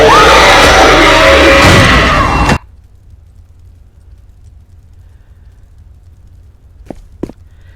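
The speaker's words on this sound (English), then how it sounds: "I'm just gonna give you a quick taste of what Inadu's scream is." A powerful vampire scream from a video game, the character Inadu's special attack, blares loudly and densely for about two and a half seconds, then cuts off abruptly into near silence with a couple of faint clicks.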